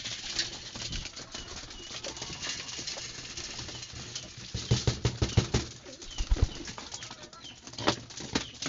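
Birds peck and flutter close by, with scattered soft taps and brief wing flaps over a steady background hiss.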